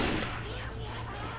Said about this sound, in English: Like, why are you shooting everything and everyone?